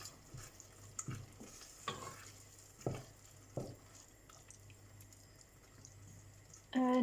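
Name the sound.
mixing beans simmering in a pot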